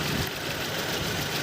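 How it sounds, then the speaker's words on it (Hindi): Tata Nexon BS6 petrol engine idling with a misfire after an ignition coil wire is pulled, a steady close rough drone with faint uneven pulsing throughout, no talk. "हमारी गाड़ी में बहुत ज़्यादा मिसिंग हो रही है।"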